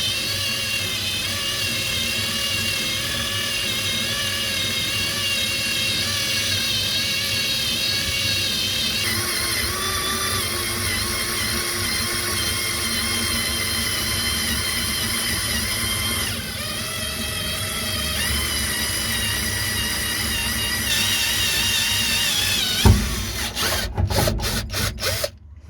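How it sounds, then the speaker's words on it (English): A power drill bores out fuel tank stud holes on a Mitsubishi 3000GT/GTO, a steady grinding whir held at slow, even pressure for a long stretch before ending in a few sharp clatters. "we're just going to finish off drilling off this one now"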